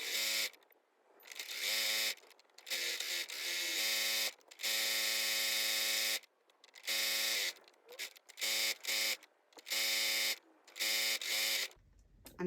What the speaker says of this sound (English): So just a straight stitch from this pin all the way around to this pin.